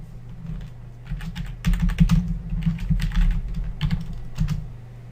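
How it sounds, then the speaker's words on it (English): Keys clatter on a computer keyboard in quick irregular bursts, close and clear, with brief pauses between clusters of keystrokes and no voices. "let's type in hello world into the properties panel."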